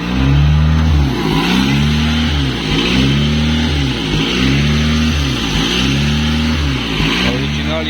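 A 2-liter Honda Prelude fourth-generation engine running on LPG revs repeatedly, rising and falling in pitch in a steady rhythm, loud and close, with a voice talking over it.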